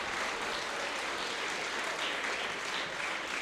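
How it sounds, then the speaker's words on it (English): Audience applause at an annual event with the Prime Minister speaking, steady dense clapping from a crowd throughout, fairly distant and even. "So let's give Susanna Lee a round of applause"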